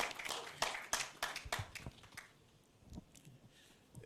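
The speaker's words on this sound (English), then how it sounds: "he deserves another round of applause" Audience at an energy-sector town hall giving a round of applause for a CEO, scattered claps fading after a couple of seconds, quiet and somewhat distant.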